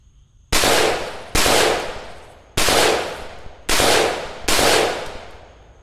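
Five loud rifle shots of 55 grain Tula ammunition fired from a bare muzzle, each a sharp blast with a long decaying tail, spaced about a second apart, with no voices.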